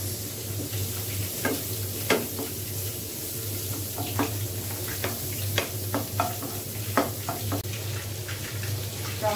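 Chopped carrots and vegetables stir-fry in a hot pan, giving a constant loud sizzle punctuated by repeated scraping and tapping strokes of a spatula at an uneven rhythm, close up and without speech.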